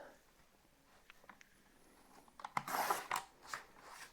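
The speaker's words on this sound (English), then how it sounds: "Let's cut this out." Scissors snip through sheets of printed paper during a paper craft project, with a few soft cuts and faint rustles building into a louder cluster of crisp snips, close and quiet with no talk.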